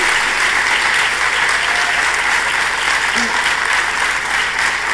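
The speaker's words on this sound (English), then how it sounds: "To warm applause in the auditorium." An auditorium audience at Vigyan Bhawan claps warmly at the Partners Forum 2018 closing ceremony, steady dense applause filling the hall throughout, tapering slightly at the end.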